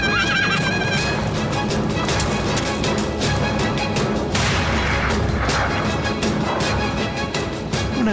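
Horses whinny and neigh over a dense din of galloping hooves and booming, gunfire-like blasts in a chaotic battle scene from an 1863 rebellion on the plains, loud and continuous with no speech.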